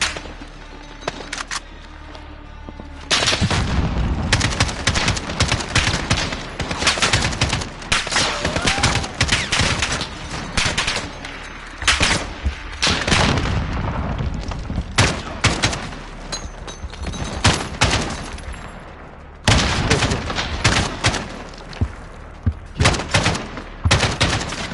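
Video game battle with sustained, dense gunfire, rapid automatic bursts and sharp sniper cracks packed closely together, loud and near, with only brief lulls between volleys.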